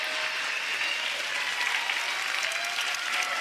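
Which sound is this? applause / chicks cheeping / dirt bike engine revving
applause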